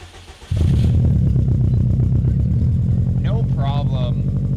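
A Subaru WRX STI cranks and fires up, its engine catching abruptly and settling into a loud, rumbling idle up close, with a person briefly speaking over it.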